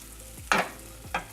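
A salmon fillet fries skin-side down in a round pan, with a low steady sizzle broken by two short scraping clatters of a utensil against the metal.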